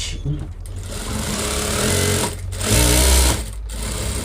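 A sewing machine runs steadily while stitching a double blouse sleeve, its motor whirring loud and close with brief pauses and speed changes.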